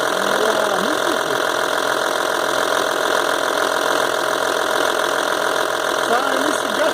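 An Audi 2.5 TDI diesel engine idles steadily after fuel-system bleeding, a loud, continuous mid-pitched rumble with a knocking edge, running close by without pause while voices talk faintly over it.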